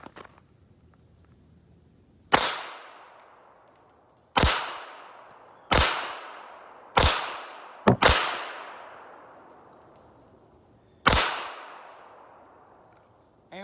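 Six loud, sharp gunshots from a KRISS Vector CRB Enhanced Gen 2 carbine fired at a target, spaced irregularly over several seconds with two close together near the middle, each with a short decaying echo.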